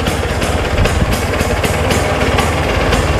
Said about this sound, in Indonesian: Oke, kita sekarang tes mesinnya ya. Sekali selah langsung hidup.